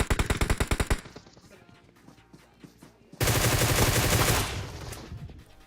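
Groza assault rifle fire in the PUBG video game: a rapid burst of loud shots opens, quieter scattered shots follow, then a dense roaring volley of sustained automatic fire.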